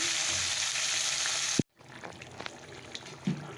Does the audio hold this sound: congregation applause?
no